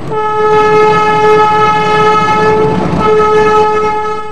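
A passenger train leaves a station with a loud, sustained horn blast over a low rolling rumble of wagons, close and continuous with no voices.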